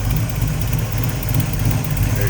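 A 1933 Plymouth five-window coupe street rod with a 360 V8, headers and MSD ignition, idling smoothly and steadily up close, a deep even rumble with faint talk in the background.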